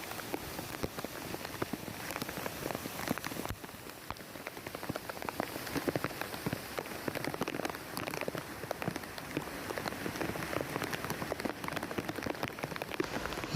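Heavy rain pours steadily in Pine Valley, Vagamon, a dense continuous hiss of drops drumming close on nearby surfaces with no break throughout.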